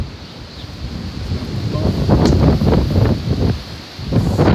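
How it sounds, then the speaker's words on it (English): Strong, blustery wind in the video game Skyrim roars and rushes in swelling gusts, with rustling texture and a low rumble building midway and surging again at the end. "Big gusts of wind"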